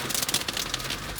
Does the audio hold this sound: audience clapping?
no